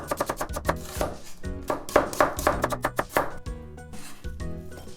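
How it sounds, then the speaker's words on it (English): A kitchen knife slices onion into thin pieces on a cutting board while preparing Japanese-style spaghetti Napolitan, with quick, close, crisp chops in steady bursts and brief pauses, no talking. "And then cut them also in thin slices."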